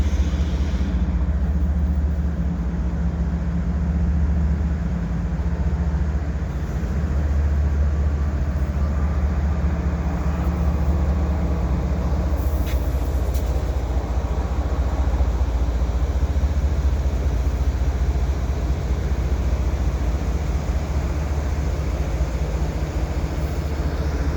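A CN freight train with a DPU locomotive at the rear rolls slowly past in winter, a continuous heavy low rumble of wagons and engine, loud and close, with faint squeals and no voices.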